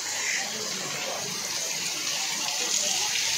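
Steady rushing rainwater pours and splashes continuously through a street in Chandni Chowk, Delhi, during a downpour, a dense wash of flowing sound with no pauses.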